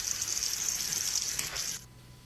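Water is slapped and splashed in a continuous hissing gush that stops abruptly near the end, loud and close, with no voices.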